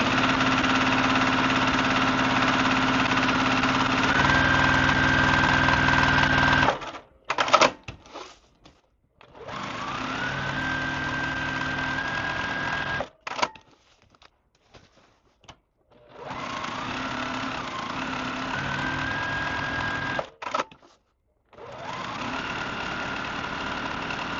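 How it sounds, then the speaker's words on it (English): A home sewing machine stitches diagonal lines on a pinwheel quilt, running in steady whirring bursts with brief quiet pauses between seams; no talking. "I'm just going to sew these diagonal lines quickly"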